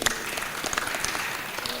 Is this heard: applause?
yes